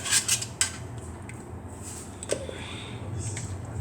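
Chopped carrots go into a pot of chorba soup, with a few sharp metallic clinks of utensil against the pot at the start, then quieter rubbing and scraping in a calm kitchen.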